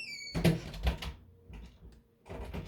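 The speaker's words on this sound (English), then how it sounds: "Close the door, please." A door swings shut in a home, giving a short thud and rattle followed by faint movement and quieter knocks nearby.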